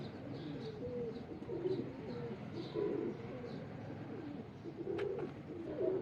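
Antique pigeons, including a Teddy King pair, coo softly in repeated low rolling calls, with faint chirps in the background of a quiet loft and no speech.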